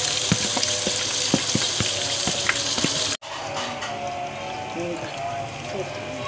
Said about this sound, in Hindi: अब मैं इसको चिकन को अच्छे से भूनूँगी